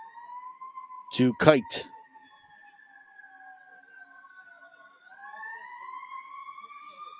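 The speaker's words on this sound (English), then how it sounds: "You can hear the sirens in the background." A fire truck crossing a bridge sounds its siren in the distance beside a baseball game, a faint steady wail running beneath a brief burst of speech near the start.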